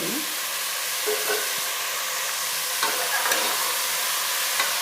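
Peeled, cut potato pieces sizzle in a masala in a pan, giving a steady close frying hiss with several stirring scrapes and knocks of a spoon, and no voices.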